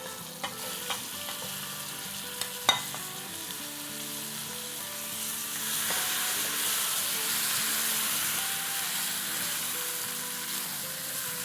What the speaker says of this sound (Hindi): इसको हम थोड़ा सा फ्राई करते हैं। इसमें अब हम अपना डाल देते हैं 2 पाउंड मीट।